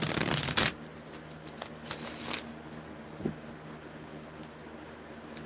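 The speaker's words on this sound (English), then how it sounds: "shuffling the chakra cards." A deck of chakra cards is riffled in one brief, crisp burst, followed by a few faint taps and rustles as the cards are handled against a quiet room hum.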